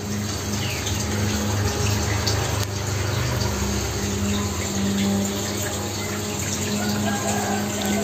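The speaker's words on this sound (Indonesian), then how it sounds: "Lama langsung aja kita isi airnya" Water running steadily into a home aquarium set up with river stones and sun-dried, soaked coffee roots, a constant close rushing and trickling wash with a low hum beneath, no voices.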